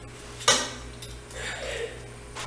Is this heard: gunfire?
no